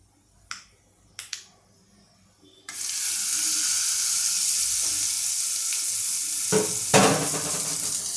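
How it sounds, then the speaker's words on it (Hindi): A couple of sharp clicks, then a loud steady sizzle as tempering spices hit hot oil for cucumber pickle, crackling continuously with occasional louder spits. "अब देखिए ये मेरा तड़का अच्छे से बन गया है"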